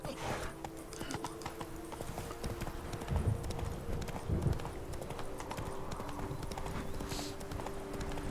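Hooves of the horse Roach clip-clop in a fast galloping rhythm in The Witcher 3, steady and continuous over game ambience, moderately close.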